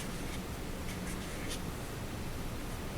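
Pen or pencil writing letters on paper while decorating a bee-themed drawing, a soft continuous scratching close by with a few brief strokes, no talking.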